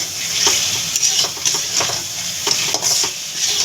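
Spice masala for egg curry sizzling in a pan while being stir-fried: brisk, rhythmic spatula scrapes over a continuous close hiss of frying.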